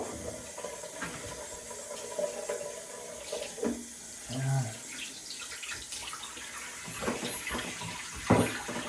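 Cold water runs steadily from a tap during a razor honing and shaving routine, a continuous close hiss with small clinks and splashes throughout.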